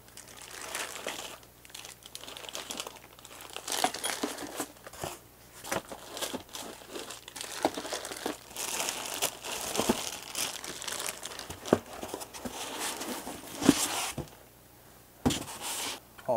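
Packaging of an Amazon Basics monitor arm crinkles and rustles as it is unboxed, giving close, quiet, irregular crackles and crunches with a few sharper snaps and short pauses, and no talk.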